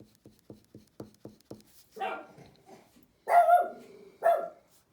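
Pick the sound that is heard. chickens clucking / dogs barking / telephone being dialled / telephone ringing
dogs barking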